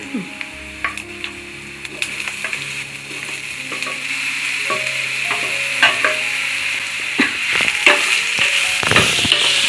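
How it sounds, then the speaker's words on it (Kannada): Mushrooms frying in oil in a pan for a mushroom sambar, a steady close sizzle with repeated clicks and scrapes of stirring. "ಗೆಜ್ಜೆ ಮಶ್ರೂಮ್ ಹಾಕ್ತಾ ಇದ್ದೀನಿ"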